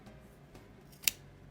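Scissors make a single sharp, quiet snip while cutting fabric for bias tape, against a faint, muffled indoor background.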